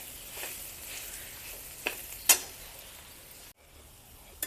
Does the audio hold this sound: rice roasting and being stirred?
yes